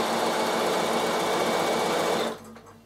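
Bernina sewing machine running steadily on a zigzag stitch while couching wool onto a felted door stop, a loud continuous close whir that stops abruptly near the end.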